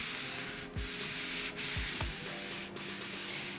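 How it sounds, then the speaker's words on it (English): A Cricut hat press rocks back and forth on a hat, giving a steady close rubbing, scraping sound with a few soft bumps as it shifts and no talk. "I'm going to make sure I rock it back and forth"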